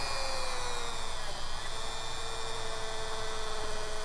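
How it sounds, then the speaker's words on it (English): An electric drill spins a small generator, a steady droning whine with mains-like hum held evenly throughout. "I'm going to take a drill and attach it to the motor, or excuse me, the generator,"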